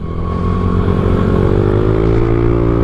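A Yamaha NMAX V2 scooter runs steadily on the road, its engine giving a continuous, close, droning hum with a faint rising pitch and no break.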